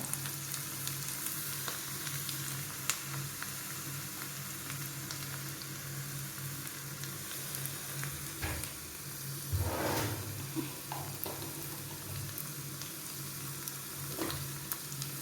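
Ginger and garlic fry in a pan of hot oil for a Malayalam okra-in-yogurt curry, giving a steady close sizzle with occasional stirring scrapes and a brief louder burst partway through.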